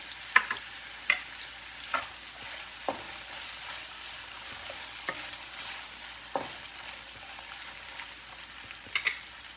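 Soybean chilli with long-cut green chillies and tomato stirred in a frying pan: a steady background sizzle with sharp spoon-on-pan scrapes and clicks recurring every second or so, no voices.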